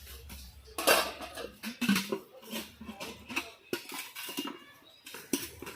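Metal pots, plates and cutlery are scrubbed and knocked together at an outdoor picnic, giving scattered clinks and scraping bursts at close range, with no talk over them.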